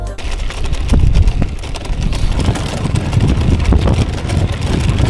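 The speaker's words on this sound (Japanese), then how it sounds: "この砂利の音とか風の音とか" Strong headwind buffeting the microphone and gravel crunching under road bike tires on a gravel road, recorded on a DJI Osmo Action 4 action camera, loud and continuous rumble throughout.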